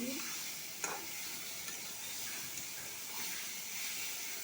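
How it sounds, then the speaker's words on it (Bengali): Masala sautéing in a pan, a steady soft sizzle and hiss with occasional light scrapes of stirring, close and fairly quiet with no talk. "দেখো ভালো করে কষিয়ে নিচ্ছি।"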